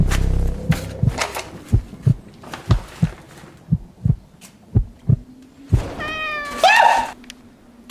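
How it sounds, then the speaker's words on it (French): A cat lets out a clear, rising meow near the end, preceded by a series of regular deep thumping beats like a heartbeat, all loud and close with no talking. "Il y a eu un chat"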